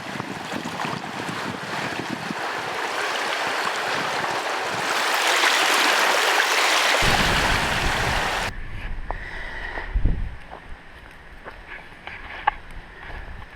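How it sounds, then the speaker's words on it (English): Wind-driven waves splash and wash around a kayak on a windy lake with white caps, a steady roar of wind buffeting the microphone and then lapping water with a few sharper splashes. "Just give you an idea of the waves that are coming in."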